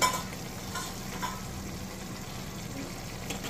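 Chicken masala, turmeric, salt and Karnataka chili powder frying in a pan for a country chicken dish: faint, steady sizzle with soft stirring scrapes. No speech.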